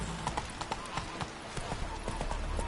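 Roach, a horse in the video game The Witcher 3, trots with a steady clip-clop of hooves on hard ground against background ambience, while voices talk over the footsteps.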